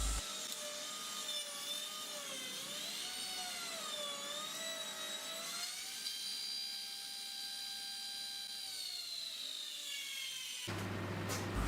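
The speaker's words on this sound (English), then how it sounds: "And now ripping the board with my blunt saw blade, and it is very blunt, I can hardly get through it." A wooden board is ripped on a saw with a very blunt blade, a loud, sustained whining drone with wavering pitch as the blade labours through the wood, continuous until the cut stops, with no talking.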